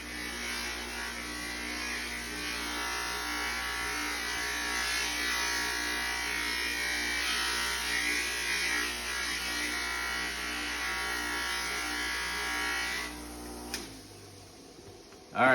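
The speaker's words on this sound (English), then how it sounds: "So I went ahead and hit it with the wire wheel very gently" A wire wheel whirs steadily against a corroded Snap-on ratchet, a continuous buzzing motor hum with brushing grit that cuts off near the end, followed by a short knock.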